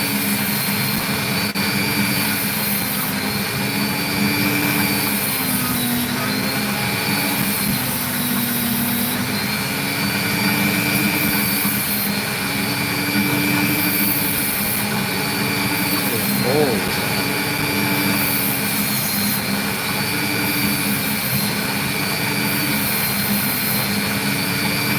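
Lapidary saw cutting sandy wood opal, a loud, continuous whining drone with a steady hum underneath that holds unbroken throughout.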